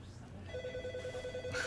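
A telephone rings faintly in the background of an indoor interview, a steady electronic ringing tone over a quiet room with speech nearby.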